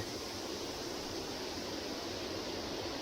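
A forest waterfall and stream at Ang Phak Nam in Chonburi, Thailand, produces a continuous, even rush of falling water, a dense steady hiss with no breaks and no voices.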